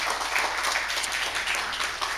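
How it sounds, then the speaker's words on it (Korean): Church congregation applauding in encouragement as newly appointed deacons are greeted during a Korean church service, a steady wash of clapping that holds evenly for the whole stretch. "격려의 박수로 환영하도록 하겠습니다."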